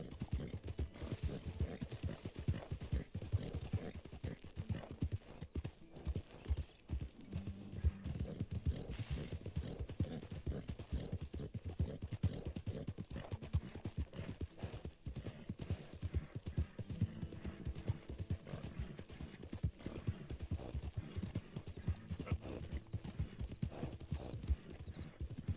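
Horse hooves clip-clop steadily while riding home in Red Dead Redemption 2 on PS5, a continuous rhythmic trot heard up close for the whole stretch, with soft game ambience and an occasional faint whinny.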